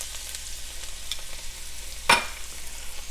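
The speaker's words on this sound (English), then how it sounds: "I am going to have to mix mine around" Pineapple frying in a hot pan, a soft steady sizzle with a few light stirring scrapes and one sharp clack of a utensil against the pan near the end.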